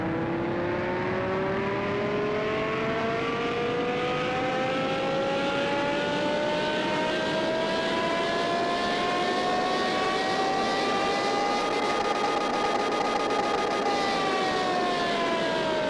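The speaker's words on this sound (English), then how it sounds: "Here we are then at the dyno. 612 starting horsepower for the beautiful CGT, and that engine's so nice." A Porsche Carrera GT engine, restored and modified to over 1,000 horsepower, runs on a dyno with a loud, sustained roar whose pitch climbs steadily for about fourteen seconds before easing off, with no voices.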